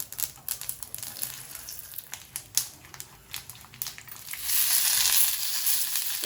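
Tamarind, lump asafoetida and two dried chillies dry-roasting in a pan for a brinjal chutney, giving scattered crackles and scraping taps that swell into a steady hiss near the end.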